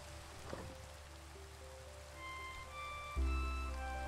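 Steady rain falls in the video game Minecraft, a constant soft hiss of drops that runs the whole time under game music with sustained tones, and the music swells louder near the end.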